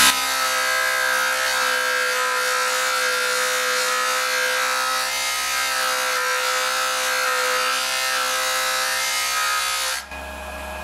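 A JoolTool rotary polisher runs steadily against a metal ring, a loud close motor whine with a strong even hum and slight grinding texture, ending with a sudden drop as it stops near the end.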